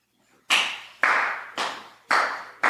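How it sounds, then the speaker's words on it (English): One person claps five times at a slow, even pace, each clap sharp and close with a short ringing decay in a quiet room. "Chris, you want to clap?"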